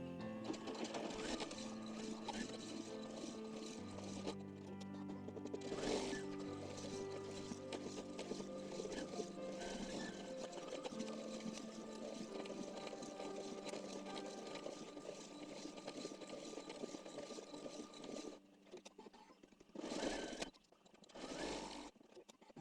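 Embroidery machine stitching a red eggs design, its needle running in a steady, fast mechanical chatter that continues near and loud for most of the clip before briefly pausing and restarting.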